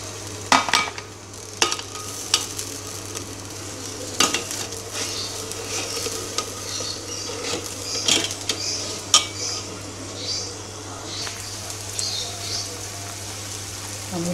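A pot of soup with corn and oyong (sponge gourd) on the boil, a steady bubbling hiss under occasional clinks of utensils and pot, close in a home kitchen.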